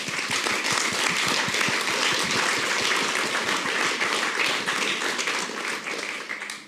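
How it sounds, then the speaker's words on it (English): A conference audience at CESI Summer Days applauds its two speakers, a dense, lively burst of many hands clapping that holds steady for several seconds, then starts to thin out at the end. "please join me in applause for our two speakers"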